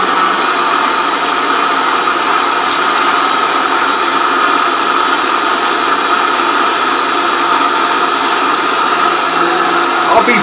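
A blender runs steadily, whirring eggnog at a constant loud pitch with no change in speed, a single sustained motor drone from start to finish.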